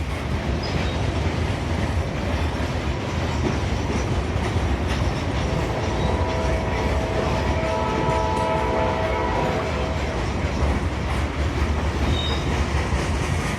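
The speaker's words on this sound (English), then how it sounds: "From the south, it was L228, an alternate auto rack train" L228, an alternate auto rack freight train, rolls past close by with a continuous loud rumble and rattle of railcars, and faint sustained horn tones sound in the middle.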